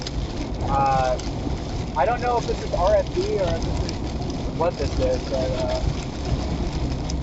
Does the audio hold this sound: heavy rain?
yes